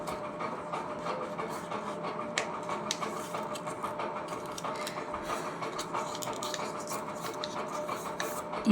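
Paper being folded for an origami cat gives soft, close crinkles, scrapes and light creasing taps scattered over a quiet background, with no voices.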